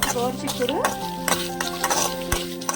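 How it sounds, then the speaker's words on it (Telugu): Sesame seeds, dried red chillies and coconut are dry-roasted in a pan while being stirred, giving a gentle sizzle with scraping strokes and occasional clinks of the utensil against the pan, close up, with faint background tones. "నువ్వులు, ఎండుమిర్చి, కొబ్బరి ప్యాన్ పెట్టి వేయించుకుందామండి"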